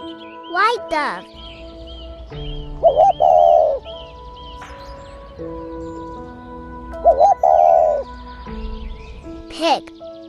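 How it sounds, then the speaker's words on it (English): A white dove coos in two short bursts, separated by a pause, over a light musical background. "white dove"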